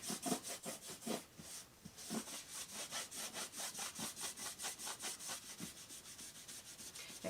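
A rag wipes stain off a rustic wooden tray in quick, steady back-and-forth strokes, a close, rhythmic rubbing scrape repeated many times, faint overall and with no voices.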